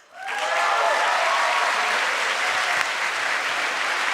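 Loud, sustained applause from a large audience at an awards ceremony, rising quickly and holding steady as dense clapping throughout.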